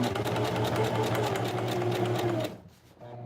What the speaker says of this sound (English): continue sewing over the seam